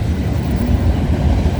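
CPKC 133, a manifest freight train, rolls past at night beside the VIA station in Cobourg, Ontario, a loud steady low rumble of wagons close by with no talk.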